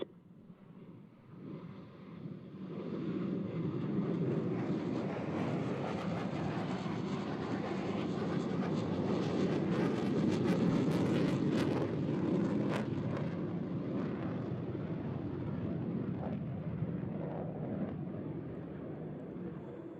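Blue Angels jet aircraft make a low break cross pass at a practice show, a deep rumbling roar that swells from far to loud and close, holds for many seconds, then slowly fades.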